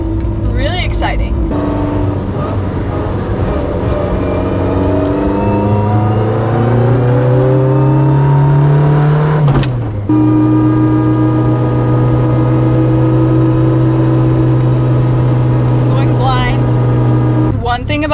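A loud Mitsubishi Lancer Evolution 8 RS with a turbocharged engine revs up and holds a steady high drone, rising and falling in pitch, with a brief drop partway through and road noise throughout.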